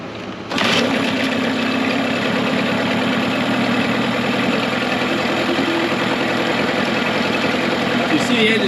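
A Mercury 15 hp outboard motor catches and runs at a loud, steady idle right after being pull-started, droning on without a break.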